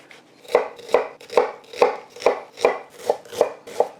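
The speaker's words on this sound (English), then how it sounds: "Let's chop up a few more toppings. Some white onion." A knife chops white onion on a cutting board in nine sharp, evenly spaced strokes about every half second, close and crisp with no voices.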